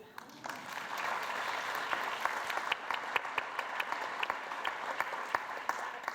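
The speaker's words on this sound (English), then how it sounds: "We were practicing some applause." An auditorium audience applauds steadily through a policy panel session, a dense wash of many hands with a few sharper individual claps standing out, moderately distant and continuous.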